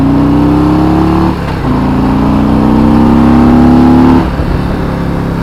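A 2018 Harley-Davidson Road Glide Ultra engine revs loudly up close, its pitch rising across two long pulls separated by a brief dip, then dropping back to a rumbling idle.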